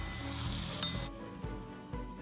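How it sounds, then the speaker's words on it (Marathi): Hot tempering with urad dal poured over a snake gourd salad, a bright sizzle that cuts off sharply after about a second, leaving quiet kitchen clinks. "ही अशी खमंग फोडणी आता या कोशिंबीरीवर घालूया।"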